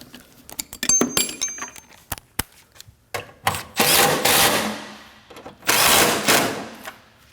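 Two 10mm bolts on a 2011-2016 Kia Optima front bumper impact absorber being snugged up, sharp metallic clicks and ratcheting followed by two longer bursts of rapid ratchet whirring, close and fairly loud.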